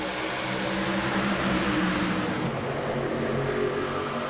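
In a racing video game, a field of race trucks accelerates together at a green-flag restart at Daytona, a dense engine drone that rises and holds at moderate volume with no talk.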